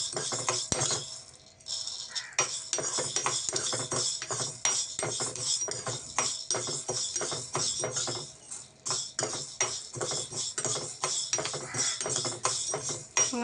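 Curry leaves being dry-roasted in a pan, stirred steadily with a spoon, giving a continuous run of close scraping and light metallic clinks with no talking.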